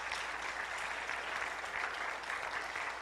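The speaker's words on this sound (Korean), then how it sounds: "박수 한번 보내드리겠습니다." A church congregation at a prayer meeting applauds the pastor, a dense, steady round of many hands clapping throughout with no voices over it.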